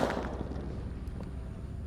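A firecracker set off at night goes off with a sharp burst followed by a fading crackle and rumble, moderately distant with no voices.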